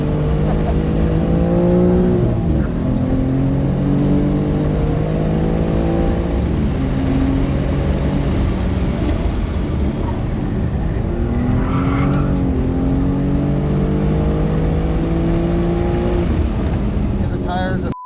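A BMW G87 M2 laps a race track, its engine revving hard from the cockpit with repeated upshifts and drops in pitch, the steady loud roar carrying on throughout while a voice talks over it.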